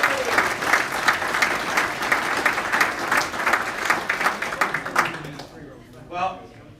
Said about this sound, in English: Big round of applause for Peter Maloney